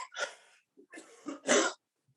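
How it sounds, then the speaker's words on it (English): A few separate coughs, close and fairly loud, in short bursts with brief gaps, the last one strongest, then a faint trailing breath. "Makes me cough, makes me choke."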